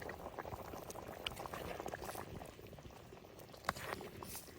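A pot of konti fish curry bubbling at a steady boil, with a soft, continuous patter of popping bubbles at moderate distance and a brief clink near the end; no talking.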